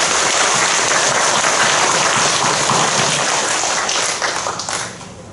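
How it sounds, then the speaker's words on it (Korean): Loud, dense applause from a church congregation in a large auditorium, sustained and steady, thinning out slightly toward the end. "우리 하나님께 감사와 영광의 박수 한번 힘차게 주시겠습니다"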